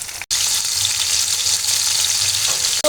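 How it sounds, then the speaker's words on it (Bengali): Chicken pieces fry in a pan over medium heat, a loud, steady sizzle that fills the space up close, briefly broken by a stir before it continues. "এই যে আমি মুরগির মাংসগুলো মিডিয়াম আঁচে ভেজে নেব এপিট ওপিট করে"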